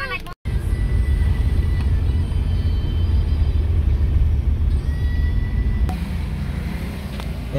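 A motorcycle engine runs with a steady, loud low rumble, heard close by with road noise throughout and a brief dropout near the start.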